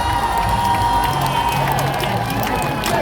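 A festival crowd applauds and cheers at a Japan-themed TV theme song party, dense clapping mixed with shouts and whoops under loud music, continuous throughout.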